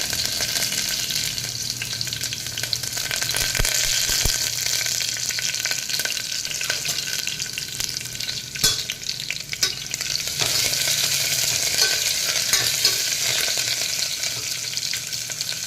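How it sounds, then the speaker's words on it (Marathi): Curry leaves and garlic fry in a pan of hot oil for Maharashtrian mixed dal tadka, giving a steady, close, loud sizzle with occasional stirring scrapes throughout. "आणि कढीपत्ता घालूया आणि लसूण थोडीशी आपण लालसर होईपर्यंत परतून घेऊया"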